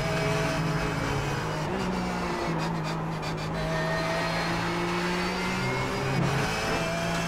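Car engine in a racing video game on a low-grip track, a steady droning whine with gear shifts as another car approaches and passes close by; no talking.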